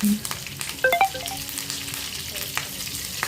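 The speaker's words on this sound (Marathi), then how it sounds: "मोहरी छान तडतडली की चार ते पाच आपण कढीपत्त्याची पानं घालणार आहोत" Mustard seeds and curry leaves spluttering in hot oil for a chutney tempering, with a steady frying sizzle, a few sharp crackles and pops near the start, and a clattering stir partway through.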